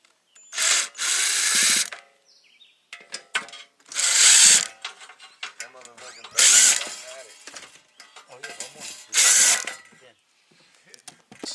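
Bursts of a power tool driving bolts into a Stark Charger stand, four loud runs of about a second each with quieter clatter and handling between them.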